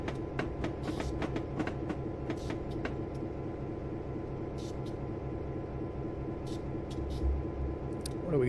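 A GP9 diesel locomotive switching at Trinidad on Raton Pass in Train Simulator rumbles steadily at idle, a low continuous engine drone with scattered clicks and short bursts over it.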